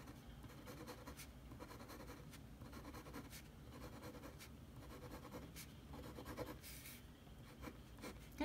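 Pencil or marker coloring in sections of a fraction diagram on paper, a quiet, close rhythmic scratching of repeated strokes with brief pauses.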